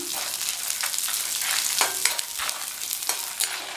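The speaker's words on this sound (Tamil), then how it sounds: "எல்லாத்தையும் சேர்த்துட்டு நல்லா பொன்னிறமாக வர வரையும் வறுத்துக்கணும்" Peanuts, coriander seeds and lentils dry roasting in a pan, a continuous dry rattling sizzle with repeated stirring scrapes, close and without speech.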